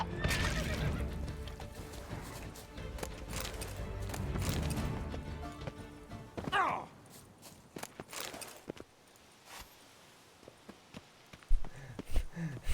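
A horse in the video game Witcher 3 neighs loudly and whinnies near the start, followed by hooves clip-clopping and scattered footstep thuds at moderate volume.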